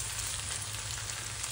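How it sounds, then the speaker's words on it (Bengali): Onion and tomato frying in a pan, a soft continuous sizzle with a low steady hum beneath, faint and without voices. "ওটাকেও পেঁয়াজের সঙ্গে একটু ভেজে ভাজা ভাজা করে নেব"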